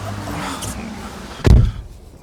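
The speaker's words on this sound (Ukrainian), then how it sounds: "Так, закриємо двері." A single solid Renault Zoe door thud lands midway, loud and close, after a quiet stretch of background hum, then fades into stillness.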